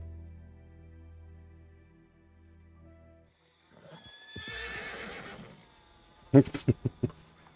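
Horses in the video game Red Dead Redemption 2 Online whinny and neigh over a low ambient drone, then a sharp burst of loud hoof clatter and thumps near the end.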